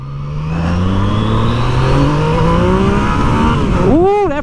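Yamaha MT-09 motorcycle engine revving under throttle, a loud close drone that climbs steadily in pitch for several seconds before a sharp swooping rise and fall at the end.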